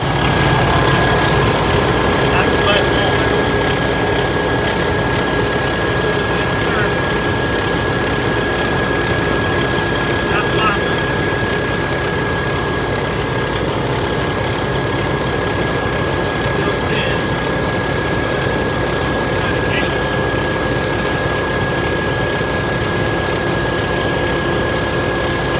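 A Kenworth T680 truck engine idles with the AC control on, a loud, constant diesel drone and vibration with a steady whine above it, running unchanged throughout with no talk.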